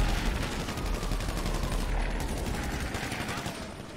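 Dense rapid gunfire from guns in the video game GTA 5 rattles on continuously at close range, loud and sustained with no pauses.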